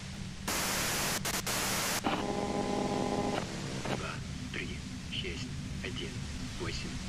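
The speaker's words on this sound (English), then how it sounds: "If you've got something really important to say, you can do it through the white noise." Harsh white-noise static hisses loudly in the video game Disco Elysium, bursting on and off in blocks, followed by quieter tones and crackles over a low hum.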